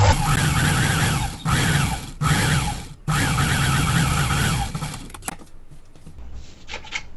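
A sewing machine stitching a blouse runs in steady loud bursts of rapid mechanical whirring, pausing briefly a few times before winding down to quieter clicks.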